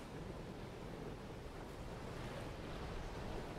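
Ocean waves wash steadily onto a beach shore, a continuous soft roar of surf with no distinct breaks and no voices.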